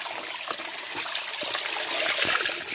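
A small trickle of water runs at a waterfall, a steady close splashing and dribbling with a few soft gurgles, with no voices over it.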